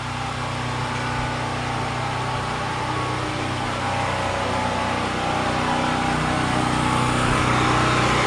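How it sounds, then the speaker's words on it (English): A generator runs steadily nearby, producing a continuous loud mechanical hum and whine that holds without pause, with no voices over it. "The generator shut off."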